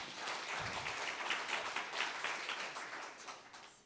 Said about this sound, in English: let's give them a little bit of a clap.